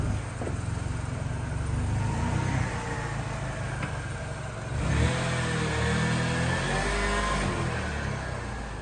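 A Mini car setting off on its maiden run in wet weather, a steady close engine drone that rises as it pulls away, with the rumble rolling on and no voices.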